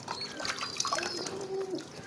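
Water splashes and trickles in short bursts as it is poured over a pigeon being bathed nearby; no voices.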